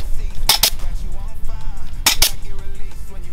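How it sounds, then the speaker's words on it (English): A clip gun fastening fence netting, two loud, sharp double snaps about a second and a half apart, each a quick pair of metallic clicks, close by with quiet background between. "Nothing like a good clip gun."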